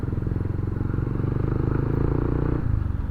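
A motorcycle rides along a wide road in a government center in Palo, Leyte, its engine giving a steady, close, continuous rumbling drone that eases slightly near the end.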